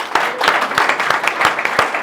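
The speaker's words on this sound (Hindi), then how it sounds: "ताली बजा बजा थक जाएंगे आप लोग" An audience clapping at a fifth anniversary celebration, a loud, continuous burst of many hands with several sharp, close claps standing out above the crowd.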